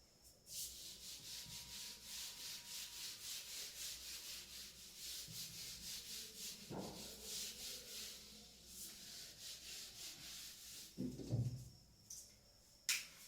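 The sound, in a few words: rubbing out writing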